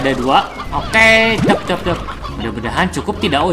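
Hens cluck in the Slime Rancher game, repeated bright clucking calls running nearly throughout, with a person talking over them.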